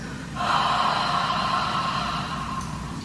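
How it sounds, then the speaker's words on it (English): A long, breathy exhale with a soft, airy tone, held steadily for a couple of seconds and trailing off quietly. "you can just make an almost silent HA sound like this"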